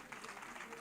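Audience applause from a live studio crowd, a dense steady patter of clapping lasting under a second without pause.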